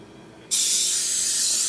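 A can of Sprayway stainless steel cleaner aerosol lets out one sudden, loud, steady spray hiss that starts abruptly and holds up close without fading.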